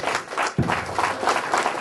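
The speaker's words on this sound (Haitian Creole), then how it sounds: "Applaudissons pour Dieu." A church congregation breaks into brisk applause, a dense patter of many hands clapping at moderate volume for a couple of seconds.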